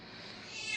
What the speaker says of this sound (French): Voilà, c'est mon chat, désolé.